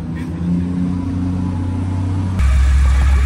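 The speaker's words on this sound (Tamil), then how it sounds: "சன்னியோட வண்டி வந்து பார்த்தீங்கன்னா வந்து ஸ்டார்ட் ஆயிருச்சு ஒரு வழியா." Triumph motorcycle with a weak battery, cranked and then catching on the road, its low engine drone rising into a steady louder idle after about two and a half seconds, with talk in the background.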